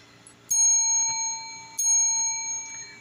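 Desk bell struck on a mat, two bright ringing dings about a second apart, each with a long shimmering decay, close and clear in a quiet room.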